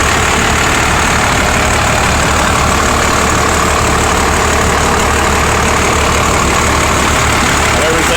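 A Cummins diesel swapped into a truck in place of a V10 idles loudly and steadily, a dense, constant low rumble with a broad rattling roar that never changes for the whole stretch.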